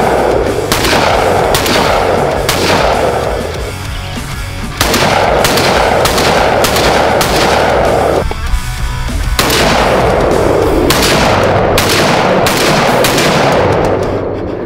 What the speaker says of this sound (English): Mossberg 930 is my favorite so far. We're gonna shoot it.